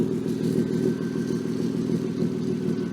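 A BMW E36 engine idles steadily with an exhaust leak, giving a continuous low rumble with rapid ticking exhaust pulses, close by and without speech.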